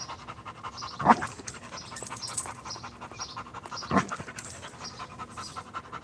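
A dog named Soma pants close by in quick, rhythmic breaths, with two louder huffs standing out.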